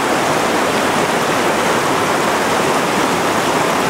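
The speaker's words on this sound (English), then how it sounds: "Guess we crossed the main Shepherd Creek here." Mountain creek water rushes hard at the Shepherd Creek trail crossing on the way up Mount Tyndall, a loud, constant broadband roar close by with no break for the whole stretch.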